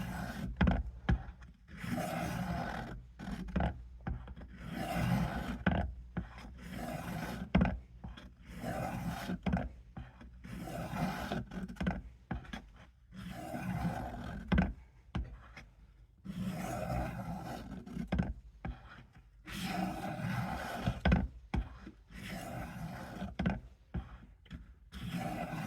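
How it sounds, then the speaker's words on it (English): A knife is sharpened on the fine grit stone of a Work Sharp, giving repeated rhythmic grinding bursts about a second long, steady and close throughout with short gaps between passes. "We're on the fine grit stone on the Work Sharp."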